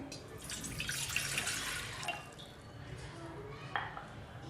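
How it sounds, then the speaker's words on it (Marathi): Mug of water poured into a cooking pot for a herbal cold and cough decoction, a continuous splashing, gurgling pour up close that fades toward the end, with a brief clink near the finish. "त्यात एक मग पाणी टाकायचं"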